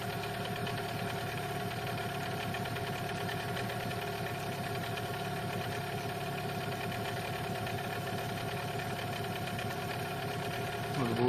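An outboard boat motor running during break-in, a steady droning rattle that holds an even pitch throughout, moderately close and continuous with no pauses.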